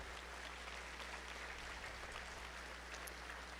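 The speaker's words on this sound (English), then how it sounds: "Please join me in a round of applause for our students from Willow Creek Elementary." An audience at a school district A+ awards ceremony applauds students from an elementary school, a steady, even wash of clapping from a large crowd heard at some distance, with no speech over it.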